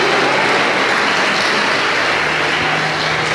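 A church congregation applauds together, a dense, steady wash of many hands clapping that holds evenly from start to finish with no voices above it.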